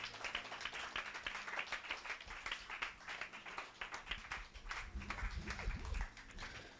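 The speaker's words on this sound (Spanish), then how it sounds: "Un aplauso al Señor." A church congregation claps for the Lord during a worship service, giving a steady patter of many hands at moderate distance with a few low voices mixed in underneath.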